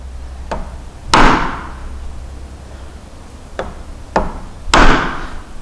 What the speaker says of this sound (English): Then from there, I can now use the mallet.